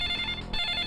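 A telephone bell rings steadily and loud, a continuous trilling ring filling the moment with a brief dip midway, alone with no talk.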